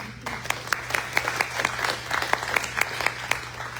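Audience applause at a city candidates forum in Katy, a steady patter of clapping hands with distinct sharper claps standing out, moderately loud and continuous for a few seconds, over a faint low hum.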